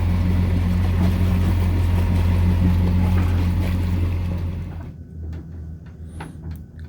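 A Catalina 42 sailboat motors under engine power, a steady low droning hum with water wash, loud and continuous before easing off and fading somewhat near the end.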